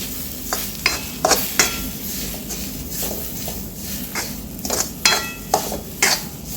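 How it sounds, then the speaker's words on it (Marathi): Ukadpendi, a Vidarbha-style roasted wheat-flour dish with tomato, stirred and roasted in a pan with a spoon scraping in repeated strokes, a steady sizzle underneath, close and fairly loud with no talking. "सोबतच हे छान भाजून घ्यायचं आहे"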